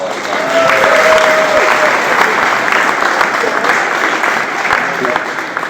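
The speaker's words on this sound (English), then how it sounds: "let's give them another round of applause" A crowd of alumni at a school reunion gives sustained applause, dense clapping from many hands with scattered cheers and voices mixed in, close and fairly loud throughout.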